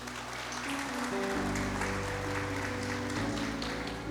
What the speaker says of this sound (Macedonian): Ве молам за еден аплауз за него денес.